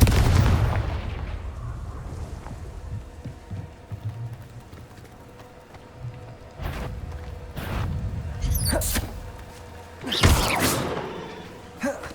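Confringo blasting spells explode in Hogwarts Legacy on PC: a loud opening boom, then several sharp cracking blasts spaced a few seconds apart, each with a short rumbling tail over a low ambient bed.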